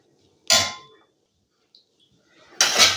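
Metal spatula scraping and clanging against a metal pan while chilli chicken fried rice is stirred, two loud bursts of scraping about two seconds apart with near silence between.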